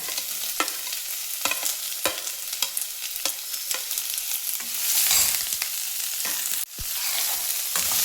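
Sliced onions and shallots hit hot coconut oil and sizzle steadily, with regular scraping knocks of a spoon stirring the pan and a louder burst of frying partway through, no talking.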